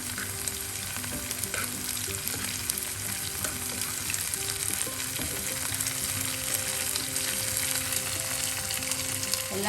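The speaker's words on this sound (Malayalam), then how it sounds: "ബാക്കി പാവയ്ക്കായി ഇതേപോലെ തന്നെ ഫ്രൈ ആകുമ്പോൾ തിരിച്ചിടാം." Bitter gourd slices fry in oil with a dense, continuous close sizzle and crackle, steady and unbroken throughout, with faint background hum underneath.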